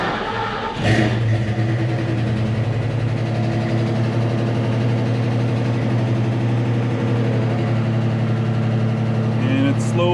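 A car engine cranks and catches after an oil sending unit replacement, then settles into a steady, close idle that holds evenly for the rest of the clip, with no voices.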